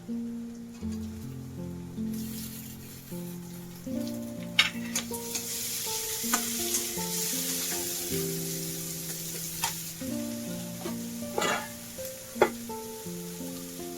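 Chopped onion fries lightly in a pan with a steady soft sizzle, punctuated by occasional scrapes and clatters from stirring, with background music playing throughout.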